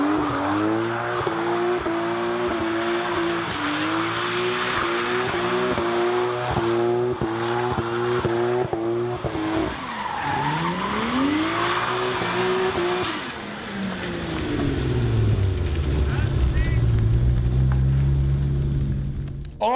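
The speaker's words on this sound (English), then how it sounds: "Only mildly impressed with my one-wheel drive burnout, Matt decided to show us how it's done." A car doing a one-wheel drive burnout: a loud, close engine revving hard in rising and falling pulses, then tire squeal and skidding noise toward the end, with no talk.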